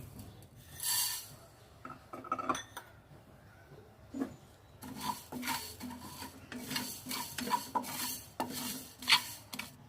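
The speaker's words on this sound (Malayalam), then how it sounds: "ഈ കൊത്തമല്ലിയുടെ കളർ ഒന്ന് മാറി കുറച്ചുകൂടി ഒരു ഗോൾഡൻ ബ്രൗൺ കളർ ആവുന്ന വരെ നമുക്കൊന്ന് വാട്ടിക്കൊടുക്കാം" Coriander seeds stirred in a hot wok (cheenachatti), dry-roasted until golden brown, giving intermittent scraping and rattling strokes of a spoon against the pan, quiet and close, with no talk.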